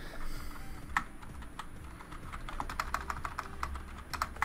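Computer keyboard typing in uneven bursts of sharp, close clicks, a few keystrokes at first and then a quicker run of taps over a low steady background hum.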